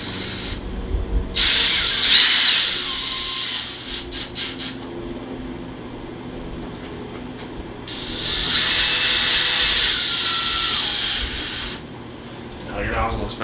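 A cordless drill whirs in two bursts, driving screws close by to refit the nozzle on a Bissell ProHeat Pet carpet cleaner, with quieter handling noises between them.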